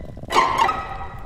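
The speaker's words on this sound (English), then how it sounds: "as well as the very unsettling soundtrack, which sounds like this." Unsettling horror film score excerpt from the film Us, a sudden swelling burst of tense, sustained tones that holds loud and then slowly fades, with no talk.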